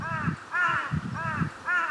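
Harsh large-billed crow caws repeat in three loud, evenly spaced bursts near a nest, each a raspy call with strong harmonics, close to the listener.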